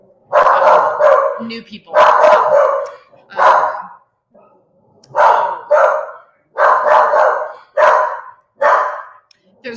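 A dog barks repeatedly in loud bursts at passersby outside, including another dog walking past, with pauses between volleys and a person talking over it.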